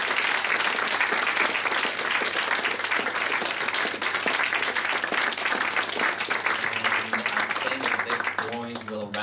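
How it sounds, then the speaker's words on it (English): A round of applause from an audience at the close of a talk show meeting with a guest, steady crowd clapping that fills the whole stretch, with voices and some music-like tones emerging toward the end. "Maybe we'll give a round of applause to everyone"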